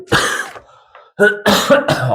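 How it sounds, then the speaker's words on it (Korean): A loud, close cough followed by a short pause and then a couple more harsh coughs and throat-clearing bursts. "기침이 나지?"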